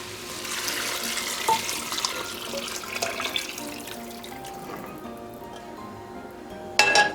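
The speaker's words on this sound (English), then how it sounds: "And then I'm going to add in all of our vegetable stock." Vegetable stock pours into a borscht pot in a steady, liquid rush, with a few clinks of pot and utensil. The pour thins out near the end, followed by a sharp clatter.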